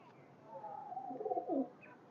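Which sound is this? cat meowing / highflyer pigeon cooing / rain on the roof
highflyer pigeon cooing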